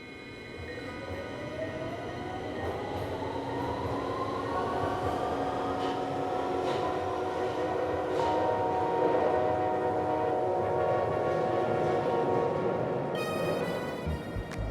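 A subway train rumbles past, its whine rising in pitch as it speeds up, steady and moderately loud, with a brief squeal near the end.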